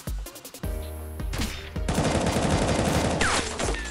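Rapid bursts of automatic gunfire from the mobile battle royale video game Knives Out crackle close and loud, starting as separate snappy shots and building into a sustained, dense volley.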